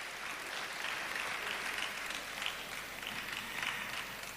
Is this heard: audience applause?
yes